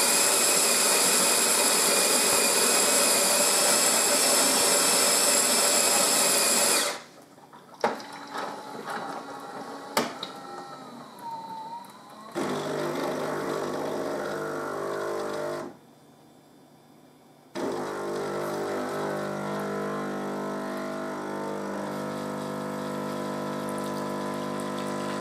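Melitta Caffeo Solo E950 bean-to-cup coffee machine making an espresso: a loud whirring grind, then quieter pump buzzing and hissing in separate bursts with short pauses between, close up and without speech.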